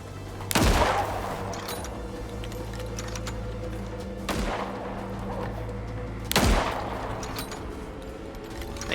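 Three loud gunshots ring out in the video game Icarus, spaced a few seconds apart, each with a sharp crack and a ringing tail over a steady low hum.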